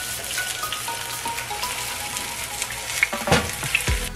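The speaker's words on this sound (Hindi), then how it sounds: "पेशावरी कबाब को हमने फ्राई करने के लिए डाल दिया है।" Peshawari chapli kebabs fry in hot oil with a steady crackling sizzle that runs throughout, joined by a few louder spatters and clatters near the end.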